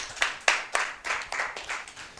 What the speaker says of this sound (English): A round of applause for the funny guy.